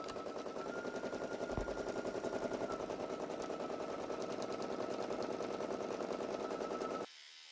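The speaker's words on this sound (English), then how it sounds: "now I'm going to say go. And it's going to start stitching" An embroidery machine stitches an HTV appliqué in a fast, steady rattling run of needle strokes, loud and close, with one thud near the start, then cuts off abruptly at the end.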